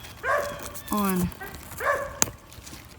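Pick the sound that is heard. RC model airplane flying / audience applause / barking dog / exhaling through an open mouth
barking dog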